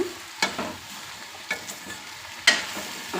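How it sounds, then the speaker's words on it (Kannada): Turkey berries (sundekai) frying in oil, a soft steady sizzle broken by a few sharp scraping strokes of a spatula against the pan, close up with nobody talking. "ಒಂದೆರಡು ನಿಮಿಷ ಎಣ್ಣೆಯಲ್ಲಿ ಫ್ರೈ ಮಾಡ್ಕೊಳ್ಳೋಣ."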